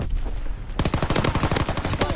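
Gunfire from a fighter aircraft's strafing run in a video game: after a quiet moment comes a sudden rapid burst of loud, sharp, evenly spaced shots lasting more than a second.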